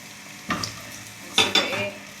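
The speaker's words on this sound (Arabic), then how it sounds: "نجيب الزيت، نحط شويه زيت، نجيب بصله قطعناها" Chopped onion fries in a little oil in a pan, giving a quiet steady sizzle with a few sharp stirring scrapes and clinks of the utensil against the pan.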